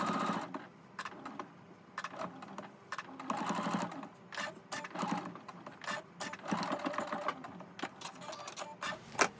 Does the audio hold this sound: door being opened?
no